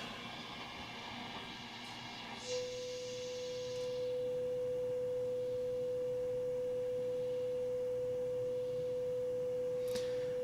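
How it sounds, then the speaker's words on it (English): A vintage Hammarlund HQ-140-X shortwave receiver picks up a signal generator set to 840, a pure steady tone that appears after a few seconds of faint hiss and holds unbroken to the end. "so I just turned the signal generator to 840."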